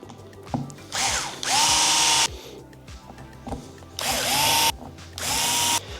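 Close, loud whirring bursts from a power driver sinking four screws downward into the side channel of an ARRMA Mojave Grom RC car kit, with short pauses between runs and no talking.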